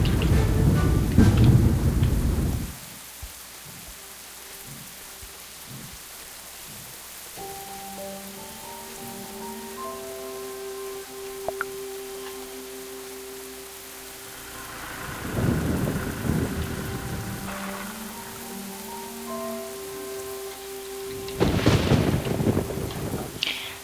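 Steady rainfall in the video game Star Stable Online with loud rumbles of thunder at the start and later, and a soft musical drone underneath.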